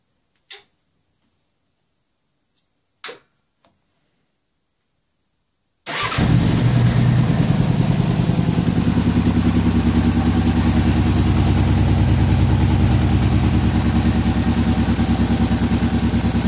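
A Suzuki GSX-R 600 motorcycle engine fitted in a dune buggy fires up after a few faint clicks and silence, then settles into a loud, steady idle.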